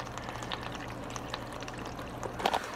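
A hose runs water over the outside of an RV: a faint, steady trickling wash heard from indoors, with a small clatter near the end.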